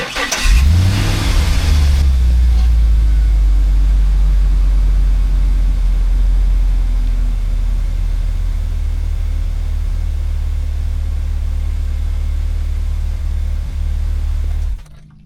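A car engine cranks and starts after a transmission fluid refill, with a brief rev at first, then settles into a steady low idle rumble, close and loud, until it cuts off near the end.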